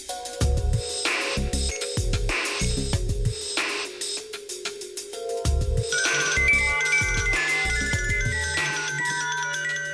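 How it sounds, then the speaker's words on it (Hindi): A mobile phone ringtone plays alone, a repeating electronic melody in short bursts with brief gaps, clear and moderately loud. "डॉक्टर, आपका फोन है।"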